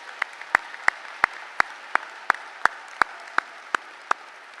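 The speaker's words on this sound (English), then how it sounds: "So please applaud all of our MICS Award winners." At a UC Berkeley School of Information commencement, a single pair of hands claps in an even, steady rhythm, about a dozen crisp claps over a faint background murmur.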